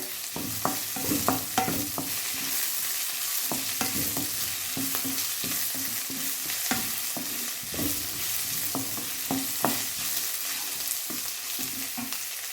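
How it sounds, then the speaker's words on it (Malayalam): Long-cut sliced onion and garlic sautéing in oil in a pan, a continuous gentle sizzle with repeated soft spatula scrapes and taps at an uneven rhythm, close and fairly quiet. "പിന്നെ ഒരു സവോള നീളത്തിൽ കട്ട് ചെയ്ത് ഇട്ട്. ഞാൻ സവോളയൊന്ന് വഴന്ന് വരട്ടെ."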